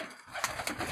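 A Sialkoti pigeon at a loft gives a short, close coo, a few soft pulsing notes over low background hiss in about a second.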